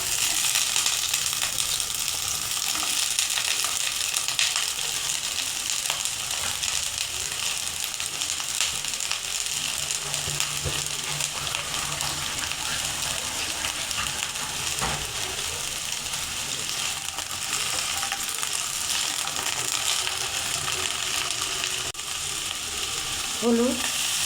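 Cauliflower florets frying in hot oil, a dense, steady sizzle and crackle that fills the whole stretch, close and even, with faint stirring clatter and a brief murmur near the end.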